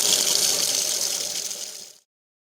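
Running water pours loudly and steadily for about two seconds during rinsing, then cuts off abruptly into silence.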